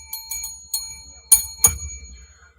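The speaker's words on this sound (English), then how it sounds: "Why do we ring a bell for 69?" A bell rung to mark a sports score on a weekend results show, struck twice with clear ringing tones that decay over a low background hum, preceded by a few lighter dings.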